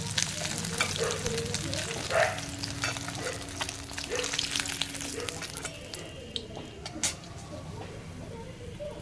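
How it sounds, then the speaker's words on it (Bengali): Pieces of shol fish (snakehead) frying in hot oil for a kalia, a dense crackling sizzle close by that holds steady and then thins out over the last few seconds. "ঠিক এইরকমভাবে ভেজে নেব মাছগুলোকে"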